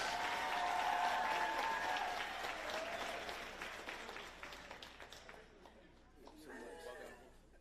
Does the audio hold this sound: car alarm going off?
no